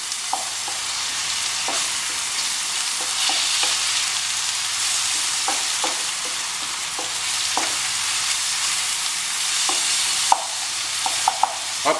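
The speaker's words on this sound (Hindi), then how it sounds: "अब प्याज जो हमारे हैं ये भी भुनेंगे।" Onions fry in ghee for mutton keema kaleji, sizzling loudly and steadily while a spoon scrapes the pan with short, irregular stirring taps, growing busier toward the end.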